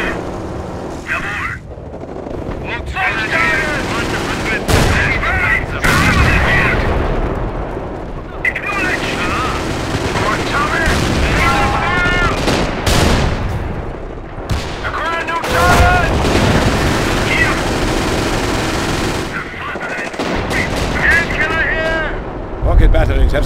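Tank cannon and small-arms gunfire from a veteran King Tiger battle in Company of Heroes with the Blitzkrieg mod, with repeated loud booms and bursts running throughout over a dense battle din, mixed with a talking voice.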